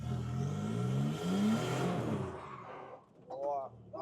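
Car engine revving hard at full throttle on a cone course during beginner drifting practice, a loud rising rev with shifting pitch that fades after about three seconds, followed by faint tire or engine whine.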